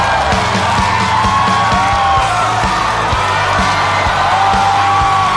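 A stand-up comedy show audience cheers and whoops loudly for a performer's entrance, a dense, continuous crowd roar with steady rhythmic clapping and music underneath.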